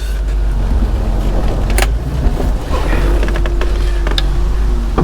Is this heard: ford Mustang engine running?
yes